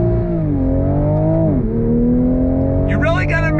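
A 2022 Toyota GR Supra in sport manual mode revs up under throttle, the engine note climbing, dipping briefly at a shift and rising again loud and close, with a voice talking over it near the end.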